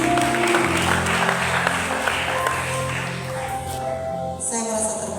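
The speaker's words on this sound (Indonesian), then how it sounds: "Terima kasih Gamal, tepuk tangan untuk semua." An audience at a church youth seminar applauds. The clapping is moderate and runs under a sustained musical tone and some voices, then fades toward the end.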